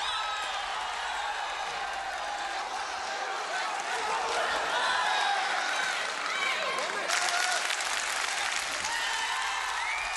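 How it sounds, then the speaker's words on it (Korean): Spectators at a 2003 World Championships men's welterweight taekwondo semifinal between Germany and the USA clap and cheer continuously in a packed arena, home fans and visiting supporters together, with whoops rising above the steady roar and a voice talking over it. "개최지 독일 관중들과 미국에서 온 응원단의 열띤 응원전이 벌어졌다"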